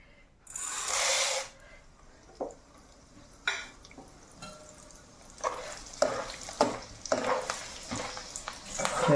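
Sago pearls dropped into hot oil to fry crisp, opening with a loud burst of sizzling, then quieter stretches broken by clicks and scrapes before the crackling frying builds again near the end.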